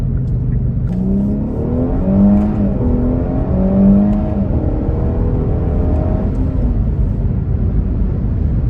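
A Kia Stinger's engine accelerating on its own with no synthetic speaker sound piped in, a steady close drone whose pitch climbs and falls through two rising pulls.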